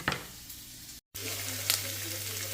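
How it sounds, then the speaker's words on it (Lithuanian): Bell pepper and tomato fry in a pan, giving a steady, close sizzle with occasional stirring clatter and a brief silent break partway through. "O dabar kepame papriką su pomidoru. Vis pamaišom, kad viskas iškeptų tolygiai."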